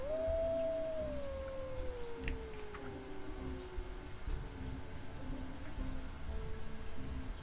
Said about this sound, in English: The dire wolf flees, and you can hear it howling in the distance.